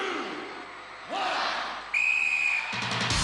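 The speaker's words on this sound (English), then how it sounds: "Gladiators, you will go on my second whistle" A referee's starting whistle at a Gladiators celebrity challenge sounds as a loud, sustained shrill blast over an arena crowd, with cheering swelling around it and more whistle tones following.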